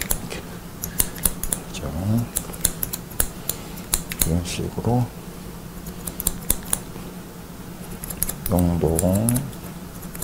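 Hairdressing scissors snip hair while a mohican haircut is cut at a beauty academy, several sharp metallic clicks and short bursts of cutting scattered through the moment, close up, with a voice speaking between the cuts.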